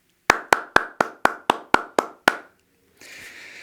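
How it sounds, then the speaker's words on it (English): At a school concert, nine sharp, evenly spaced claps ring out one after another, each with a short decay, followed by a brief stretch of soft broadband noise after a pause. "So, Lenny, wherever you are, stand up, and we're all going to applaud you"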